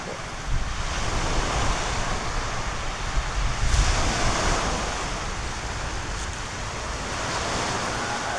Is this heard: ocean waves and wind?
yes